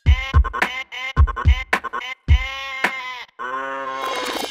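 Sheep bleat close and loud in a series of short, wavering cries with brief pauses between them, ending in a longer, overlapping bleat.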